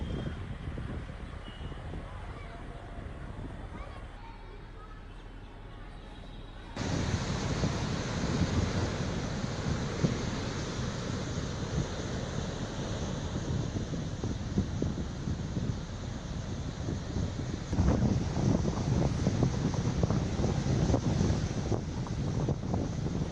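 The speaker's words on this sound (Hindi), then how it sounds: "तमिलनाडु के कई जिलों में भारी बारिश के साथ तेज हवाएं चल रही हैं।" Strong wind roars steadily at a shoreline during Cyclone Ditwah in Tamil Nadu, with surf rumbling beneath; a quieter stretch gives way to a sudden louder gusting blast that continues with crashing waves.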